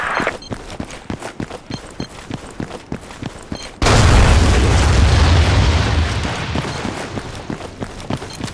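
A grenade goes off in the Battlefield 2 shooter game: rhythmic footsteps and small pops, then a sudden heavy blast that rumbles on loudly for several seconds before slowly easing.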